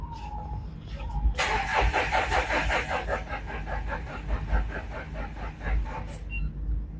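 An engine with a run-down battery is cranked by its starter motor. It makes about five seconds of rhythmic, loud churning pulses that never catch, then stops abruptly, against a low background rumble.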